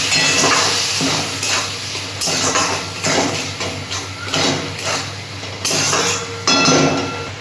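Water poured into a hot frying pan of spiced gravy for a prawn dish with ground spices, giving a loud, steady sizzle and hiss with occasional clinks of a utensil against the pan, no voices.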